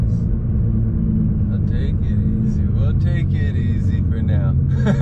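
A 2016 Nissan GT-R built to about 1200 wheel horsepower runs with a steady, deep engine rumble, heard from inside the car beneath continuous talking.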